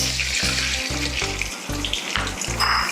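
Cream of wheat (semolina) goes into a hot pan and sizzles loudly, with a pulsing, gritty frying hiss and rhythmic bursts that continue throughout.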